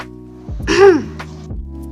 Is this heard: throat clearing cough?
yes